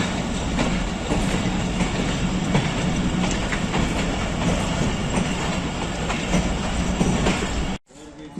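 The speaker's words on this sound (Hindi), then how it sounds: "गुजरहान पहुंच रही है 46 डाउन पाकिस्तान एक्सप्रेस।" The 46 Down Pakistan Express rolls into Gujar Khan railway station on a foggy day. Steady loud rumble and wheel clatter carry on for nearly eight seconds, then drop away abruptly, with faint talk beneath.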